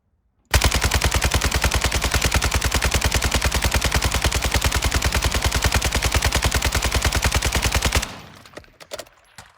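An RPK machine gun in Warzone 2 fires one long uninterrupted automatic burst for about seven and a half seconds, loud and rapid, then stops abruptly, leaving faint residual clatter.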